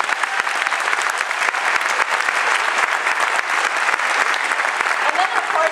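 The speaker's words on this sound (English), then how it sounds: "Could we give a round of applause for our grade 1 teachers, please?" Steady, dense applause from a crowd at a first-grade school concert, clapping continuously throughout without a break.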